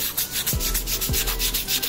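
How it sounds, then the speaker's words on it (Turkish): A scooter part, on a Yamaha N Max 125, is rubbed with sandpaper in steady, rapid back-and-forth strokes, a close, loud rasping scrape repeating about every fifth of a second with no talking. "zımparayla bunun dışını eşit şekilde hepsini alacağız arkadaşlar"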